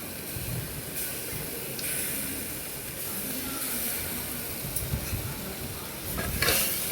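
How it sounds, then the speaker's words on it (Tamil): Mashed tomato and other crab soup ingredients fry in hot oil in a pan, giving a steady, dense sizzle with occasional stirring scrapes, close and even, with no voices. "அதையும் நல்லா நல்லா எண்ணெயிலே ஃப்ரை ஆகட்டும்"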